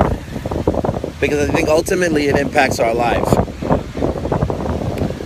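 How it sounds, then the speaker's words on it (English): Strong gusty wind batters the microphone outdoors with loud low buffeting rumble throughout, while someone talks over it. "really windy"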